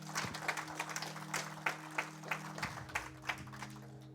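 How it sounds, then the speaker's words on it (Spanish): A church congregation claps in a loose, rhythmic patter of distinct hand claps, fairly faint and distant, over a low steady hum. "Dámele un aplauso a Jesús, aleluya."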